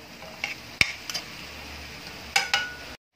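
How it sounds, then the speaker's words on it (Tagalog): Adobong sitaw, Ilocano style, being stirred in a pan, with light, irregular metallic clinks and scrapes of the utensil over a soft sizzle, then a sudden stop. "Haluin lang natin ulit yan. Para kumalat yung rekadong nilagay natin."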